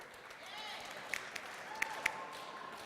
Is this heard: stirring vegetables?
no